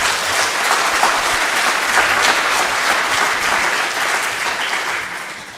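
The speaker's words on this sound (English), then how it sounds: "So first, applause for..." Dense, even applause from a meeting audience at a fishing-technology working group session, loud and sustained throughout, easing slightly toward the end.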